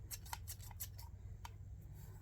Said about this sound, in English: so if we open them up, there's not much play in the scissors